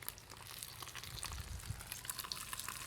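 Whole fish laid into hot olive oil in a pan, giving a steady close crackling sizzle with light spattering throughout, no voices.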